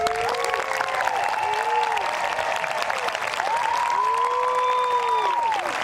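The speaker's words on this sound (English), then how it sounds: "let's give them all a big round of applause" Sustained applause from an audience at an 8th grade promotion ceremony fills the space, a dense steady patter of clapping with whistles or cheers sliding over it.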